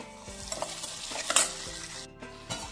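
Onions sizzle and crackle in a hot pan while a utensil stirs them, with scraping strokes over the steady frying hiss.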